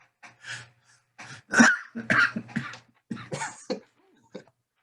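Harsh, repeated coughing fits break out after hard laughter, several rough bursts in quick succession followed by a couple of fainter coughs, close and loud with no speech.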